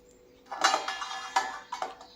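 A lid clatters down onto a pan holding a pizza cooking on a griddle, with a few close metallic knocks and scrapes as it settles.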